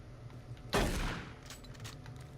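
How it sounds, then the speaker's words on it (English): A single pump-action shotgun blast in the video game Doom 3, one sharp, heavy report that rings out briefly and fades, standing alone against a quiet background. "That shotgun is one of the worst rates of fire ever."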